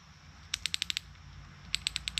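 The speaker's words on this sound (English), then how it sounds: "I've used this ratchet for years." Icon G2 quarter-inch drive ratchet wrench, a fine roughly 90-tooth mechanism, clicking in two quick bursts of about six crisp, close ticks each, separated by a short pause, with no talk.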